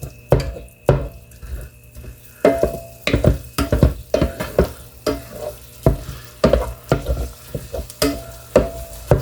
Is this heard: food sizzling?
yes